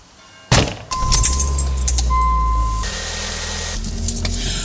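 Keys jangle and car doors thunk shut as people climb into a car, followed by a steady close engine hum with faint clicks and rattles.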